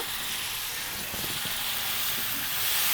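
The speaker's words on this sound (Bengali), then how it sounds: "এবার আমরা পানিটা দিই পানিটা দিচ্ছি অল্প পানি দেবো মশলাটা আবার একটু কষানোর জন্য" Chilli spice paste sizzles and fries steadily in a hot pan as a little water is poured in, giving a continuous bright hiss with faint stirring scrapes.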